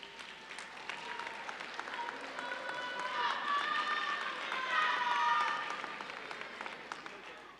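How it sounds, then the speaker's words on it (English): Commencement audience applauding families and friends of graduates at a fall ceremony, steady clapping swelling midway and tapering off, with cheers and overlapping crowd voices throughout. "So graduates, turn to your family, your friends, and give them a round of applause."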